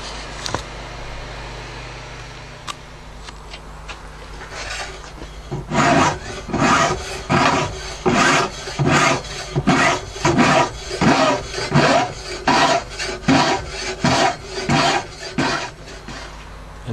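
Steel file rasping a bevel into a knife blade during hand knife-making, about a dozen steady, rhythmic strokes starting after a quiet opening, close and fairly loud with no talk.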